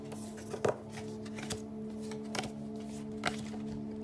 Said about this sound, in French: On va essayer encore de tirer 3 cartes.